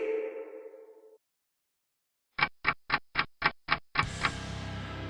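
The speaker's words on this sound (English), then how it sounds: "Clock is ticking!" A clock ticking in an audiobook of Fallout Equestria Project Horizons, heard as seven sharp, evenly spaced ticks after a brief low tone and silence, followed by a dense crash of noise.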